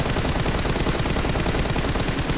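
Rapid, dense gunfire from the PUBG Mobile battle royale game during a competitive scrim match, a sustained burst of overlapping shots with no pauses across the whole stretch.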